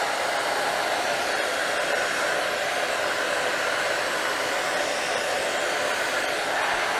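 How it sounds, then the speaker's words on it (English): A pink hair dryer blows steadily and close throughout, a constant loud whoosh used to heat shrink wrap onto an 18650 battery. "I borrowed her hair dryer, a nice pink one. And let's go ahead and heat it up"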